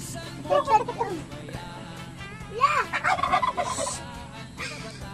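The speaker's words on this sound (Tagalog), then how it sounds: "O Ibi, ayun ang pabo." A turkey gobbles on a farm in the countryside, with several bursts of rapid gobbling calls at close range and people talking nearby.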